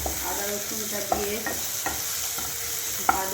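Grated ginger and garlic fry in a pan while being stirred. Sharp scrapes and clicks of the spoon sit over a constant sizzling hiss, close up and with no speech.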